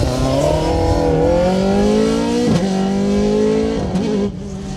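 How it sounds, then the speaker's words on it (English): A Darien rally car drives a stage of the Colin Ellmore Memorial Rally. Its engine is loud and close, and it revs hard, climbing in pitch through gear changes before easing off at the end. "Some serious grunt in that Darien"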